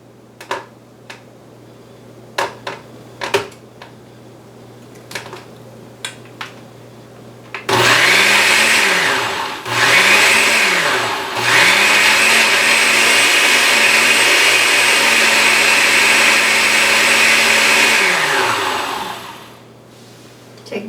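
A countertop blender starts up and runs loud and steady for about twelve seconds, whirring through a cilantro lime dressing with a couple of brief dips in pitch, after a few light knocks and clicks.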